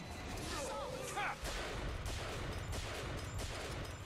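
Sniper rifle gunfire in the BioShock Infinite video game cracks out amid dense, busy combat noise, with several shots and blasts layered over a continuous rumble.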